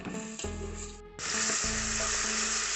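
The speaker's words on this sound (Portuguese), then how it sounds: "Primeiro vamos refogar a cebola." Onion and garlic sautéing in a pan, a dense bright sizzle that drops briefly and then surges louder and steady, with low tonal hum from the stove area beneath.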